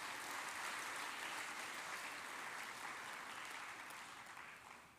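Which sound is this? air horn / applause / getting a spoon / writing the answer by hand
applause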